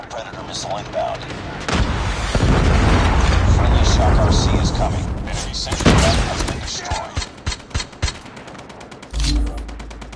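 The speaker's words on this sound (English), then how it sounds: "Hostile predator missile inbound" Predator missile strike in Call of Duty Mobile on the Shipment map, a long roaring blast followed by a burst of rapid gunfire and a final thud, loud and close, with a game announcer voice over it.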